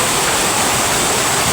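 Heavy rainwater rushes across flooded village fields during a severe downpour, a dense, steady roar of flowing water with no pauses, loud and close.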